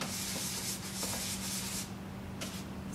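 A paint brush is rubbed back and forth with dark wax, giving a steady, close scratchy brushing sound in repeated strokes over a constant low hum, with no talking.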